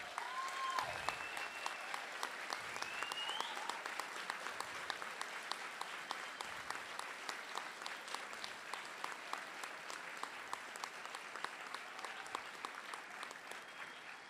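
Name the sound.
audience applause at CPAC conference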